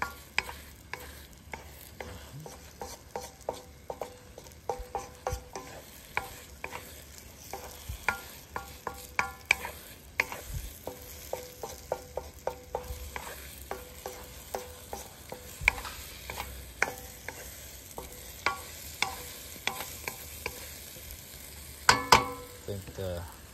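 Breakfast sizzles in a pan at a campsite on Vancouver Island while a utensil stirs it, producing many quick, light clicks and scrapes over a soft frying hiss, with faint talk in places.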